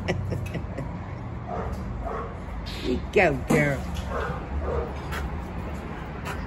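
A dog barks and yips in short, excited bursts, with a whimpering yip near the middle, close by and mixed in with people chatting and laughing over it.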